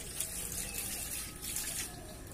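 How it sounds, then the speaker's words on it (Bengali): Cold tap water runs steadily over boiled banana flower being rinsed in a kitchen, a continuous close splashing hiss with no pauses. "ঠান্ডা জল দিয়ে ভালো করে ধুয়ে নেব"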